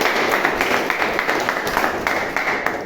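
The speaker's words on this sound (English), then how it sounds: "let's have a huge round of applause" A meeting crowd breaks into a round of applause, many hands clapping in a dense, steady patter that holds at an even level throughout.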